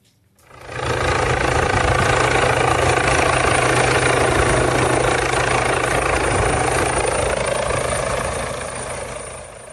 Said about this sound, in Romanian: a fost salvat cu ajutorul elicopterului Smurd